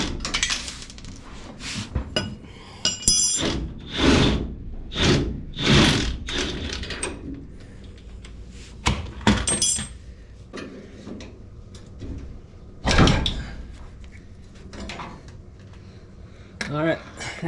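Tools working loose a long shock absorber bolt on a dirt bike: irregular metallic clinks, ratcheting and clanks in uneven bursts, with someone talking between them.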